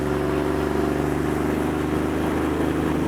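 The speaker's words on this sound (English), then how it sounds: "It's a cruiser with a weird engine." A Manx dune buggy with an airplane engine cruises along, giving a steady, loud, buzzing engine drone with a fast pulsing rhythm that holds even throughout.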